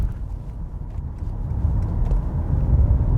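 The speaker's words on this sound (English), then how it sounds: "the way the car accelerates for the size of the GLS, it is something you have to feel it" Mercedes-Benz GLS 450d AMG Line diesel SUV accelerating, heard from inside as a low steady engine and road rumble that swells slightly in loudness, without talking.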